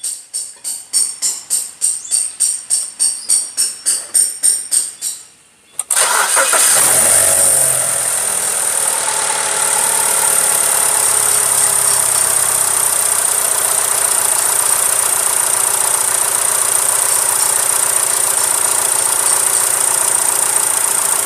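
A car engine cranks in about a dozen rhythmic starter pulses during a battery crank test, then fires up and settles into a loud, steady idle that runs on alone.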